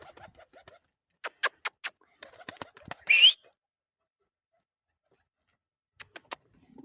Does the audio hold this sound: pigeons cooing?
yes